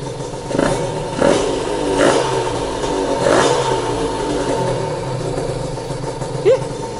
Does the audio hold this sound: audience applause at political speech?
no